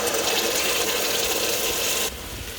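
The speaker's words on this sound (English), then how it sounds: "Then add the tomatoes" Tomatoes tipped into a pan of softened, toasted spiced onions for an eggplant gratin sauce, giving a steady, wet rushing sizzle that runs loud and continuous, then drops a little quieter near the end.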